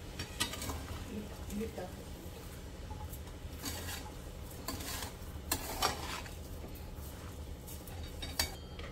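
Chana dal and sugar for puran are stirred and sautéed in a pot, with quiet sizzling and intermittent spatula scrapes against the metal, faint and close, under a low background hum.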